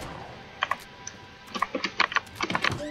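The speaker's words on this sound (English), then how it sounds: "Oh, this keyboard is the best." Computer keyboard typing, a quick irregular run of sharp, close key clicks that starts sparse and grows into a dense burst, with no talking.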